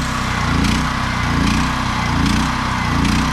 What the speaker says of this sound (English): at least once a month I come out here and crank this one because it's my backup generator.